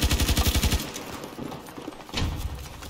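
Battlefield 2042 gunfire: a rapid automatic burst of about a dozen loud, evenly spaced shots, followed by quieter battlefield noise and a second heavy burst near the end, all close and without speech.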